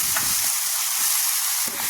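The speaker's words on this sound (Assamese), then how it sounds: "এতিয়া গোটেইখিনি ধুনীয়াকৈ মিক্স কৰি দিওঁ" Steady hiss of grated carrot halwa cooking in ghee with a little water in a hot wok, with soft scraping strokes of a spoon stirring it now and then.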